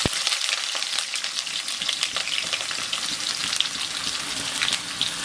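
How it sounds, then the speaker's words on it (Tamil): Onions and curry leaves frying in hot oil for mutton liver fry, a steady loud sizzle and crackle with bright spatter throughout, no talking. "இப்போ இது எல்லாத்தையும் வெங்காயத்தை, கருவேப்பிலை எல்லாம் சேர்த்து போட்டுக்கலாம்"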